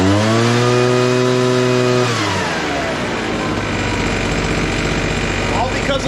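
A late-1990s Honda Harmony small engine runs off choke with the throttle released, a steady loud droning tone that drops in pitch and roughens partway through, close by.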